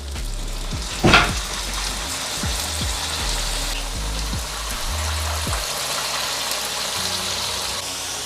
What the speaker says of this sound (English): So we fry them for 3 minutes on one side and we're gonna fry them for the next 3 minutes on the other side.